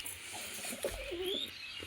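Pigeons settled in a loft give soft, low, rolling coos close by over a faint steady background hiss, lasting under two seconds.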